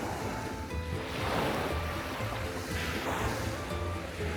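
Waves wash steadily onto the Tyrrhenian Sea shore near Pisa, a continuous broadband surf roar with gentle swells in loudness and no voices.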